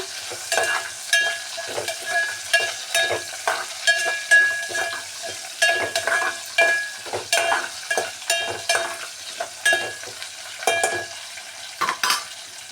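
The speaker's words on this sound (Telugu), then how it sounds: "మంచిగా అంటే మంచిగా గోలించుకోవాలి ఎర్రగా" Mustard seeds and green chillies fry in oil while a spoon stirs the pan, rhythmic close scraping strokes over a soft, steady sizzle.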